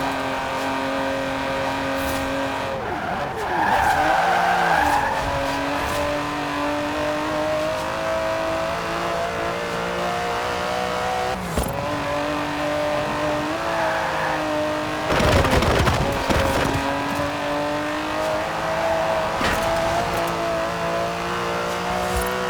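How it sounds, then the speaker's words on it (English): Aston Martin DB11 driven in the Forza Horizon 4 racing game, a steady loud engine drone that swells with revving surges and gear changes throughout, with no voices over it. "The DB11 is not the fastest car in the world, but then it's not trying to be."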